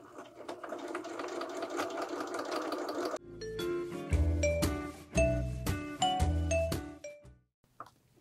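A sewing machine runs up close stitching piping onto a pillow, first a steady continuous whir, then a series of short stop-start bursts with small clicks between them.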